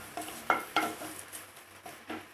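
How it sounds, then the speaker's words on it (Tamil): Curry leaves fry in a pan for a Tamil puliyodharai paste while a spoon stirs them. Several sharp scraping clacks sound close over a soft background sizzle, with no voices. "அடுத்து கருவேப்பிலை போட்டுக்கோங்க."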